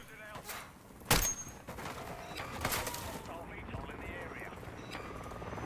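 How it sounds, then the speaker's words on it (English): A hostile VTOL aircraft flying in a shooter video game, with a steady rumbling engine drone, a sharp gunshot-like crack and scattered bursts of gunfire, all under a player's talk. "Oh my god, hostile VTOL."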